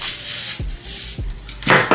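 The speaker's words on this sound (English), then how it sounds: "I'm just going to spray a little bit of holding spray" Short bursts of hair holding spray hiss from a spray bottle during a lace wig install, a few quick close pumps, the last one longest and loudest.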